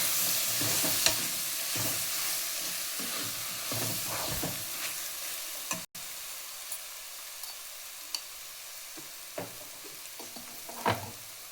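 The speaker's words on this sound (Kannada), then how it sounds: "ಚಿಲ್ಲಿ ಪೌಡರ್ನ ನೆಕ್ಸ್ಟ್ ಹಾಕಿ ಎಲ್ಲ ಫ್ರೈ ಮಾಡಿ" Chili powder and spices fry in a pan for a mushroom, fenugreek and pea pulao, giving a steady close sizzle with intermittent scraping stirs and no talk.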